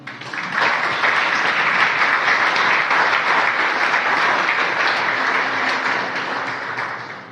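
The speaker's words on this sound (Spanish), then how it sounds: "¿Alguien le da un aplauso al Señor?" A church congregation applauds, steady dense clapping that fills the room for about seven seconds before tapering off slightly at the end.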